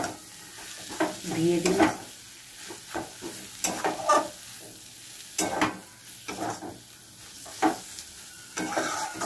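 Lotte (Bombay duck) fish curry stirred in a frying pan with coriander leaves, giving intermittent scraping and stirring strokes over a soft sizzle, with brief speech between strokes.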